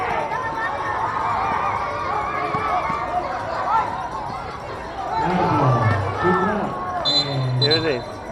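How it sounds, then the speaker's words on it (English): A high school basketball match in an indoor gym, with a school crowd producing a steady hubbub of chatter and cheering, swelling louder partway through, shoes squeaking on the court and voices rising over the din. "There's a whole school cheering them up."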